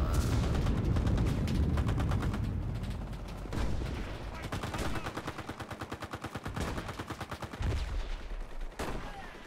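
MG42 machine gun in Enlisted, long rapid bursts of loud close automatic fire with a hard rhythmic chatter, broken by a few short pauses and heavier single booms.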